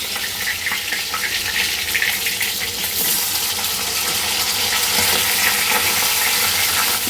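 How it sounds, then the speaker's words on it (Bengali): Loud, steady sizzling of tilapia frying in hot oil, a continuous crackling hiss that grows slightly denser toward the end. "তো আজকে তেলাপিয়া মাছ নিয়ে এসছে এই যে ভাজা করছি"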